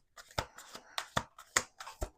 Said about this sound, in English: Let me finish this shuffle.